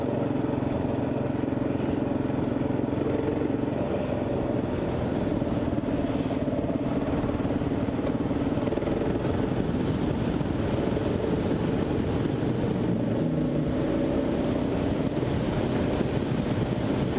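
A stock KLR motorcycle climbs a mountain road that turns to gravel, its engine a steady, close, unbroken drone throughout with no talk over it.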